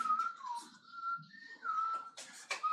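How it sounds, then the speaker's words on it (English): A lone person whistles the Jeopardy theme tune, a clear, close melodic line of sustained notes with short breaks, followed by a few louder breathy bursts near the end. "I want to whistle the Jeopardy tune."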